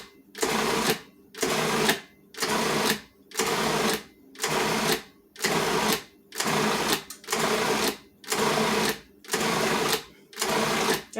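A food processor pulses about ten times in even, regular bursts with brief silences between, mixing a meatzza mixture of meat and ingredients. The bursts are loud and close.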